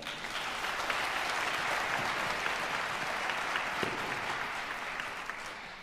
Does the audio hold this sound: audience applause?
yes